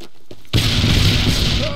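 Singularity explosion in the video game Chronicles: a sudden loud burst erupts after half a second of quieter lead-in, followed by a dense, sustained roar that rumbles on to the end.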